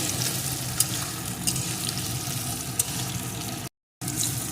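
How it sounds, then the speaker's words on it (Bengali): Chopped onions frying in a kadai, a dense, continuous loud sizzle heard close up, broken only by a brief moment of silence near the end. "পেঁয়াজ কুচি একটু ভেজে নিয়ে"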